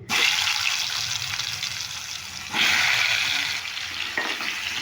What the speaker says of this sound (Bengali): এবার আমি আলুগুলো ভেজে নেব এই মাখিয়ে রাখা আলুগুলো দিয়ে দিচ্ছি